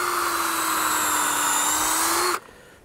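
A power drill whines at a steady high pitch as it bores into a felled tree log in the woods, loud and close for over two seconds before cutting off abruptly, no talking.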